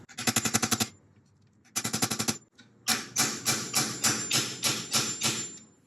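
Rapid metallic tapping in three bursts, quick hammer-like strikes on a 9/32 socket seating a 1980-84 Volkswagen Vanagon sliding door roller, the last run slower and steadier with a slightly changed tone as it seats fully.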